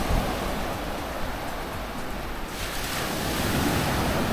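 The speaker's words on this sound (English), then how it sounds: "Listen to how calming the waves are to your ears." Steady roar of ocean surf washing onto a beach at Koh Samed, broadband and continuous, with some wind rushing across the microphone and no voices.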